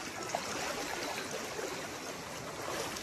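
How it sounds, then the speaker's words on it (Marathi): A fast-flowing river rushes in a steady, faint broadband wash that stays continuous and even, with no voices heard. "बहाव देखो पानी का बहाव"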